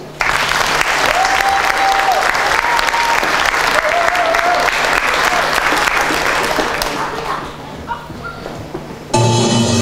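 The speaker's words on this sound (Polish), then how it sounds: "Prosimy o brawa." An audience at a 35th anniversary concert claps after a rock opera number: dense, loud applause that fills the hall for several seconds, then thins and fades before a voice cuts in at the end.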